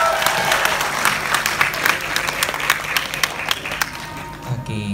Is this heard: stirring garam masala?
no